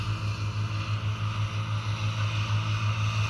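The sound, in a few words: tractor driving in a field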